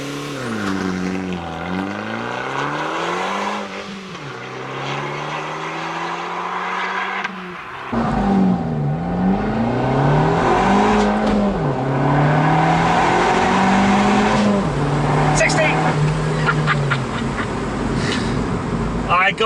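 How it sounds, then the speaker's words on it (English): Abarth 695 Rivale launching from a standstill for a 0 to 60 run with some wheel spin, its exhaust howling loud and close through rising revs, a brief lift between gears, then climbing again. "I got a lot of wheel spin to start with there, but that exhaust is just howling."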